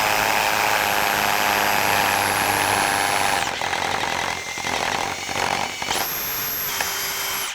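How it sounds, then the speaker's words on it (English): A power drill whines at high speed boring into a soft dot and dab plasterboard wall, the motor pitch dropping as the bit bites in, then a short spin-up again before stopping, loud and close. "If you get your drill bit, pop a tie wrap on there."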